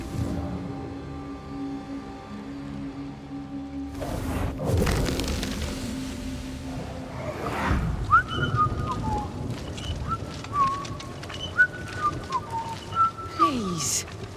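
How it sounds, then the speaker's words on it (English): An eerie, wavering whistled tune rises and falls over a low rumbling drone and distant booms, with scattered sliding notes drifting in and out. "The sound comes from those spectral webs."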